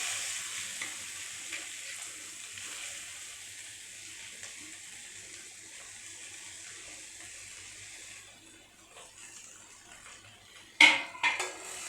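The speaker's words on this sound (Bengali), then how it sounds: "বাকি অর্ধেকটা পেঁয়াজ আমি তেলে ভেজে নেব" Half of a chopped onion fries in hot oil in a pan for Bengali duck egg curry, a steady soft sizzle running throughout, ending with a few sharp metallic clinks of a utensil against the pan.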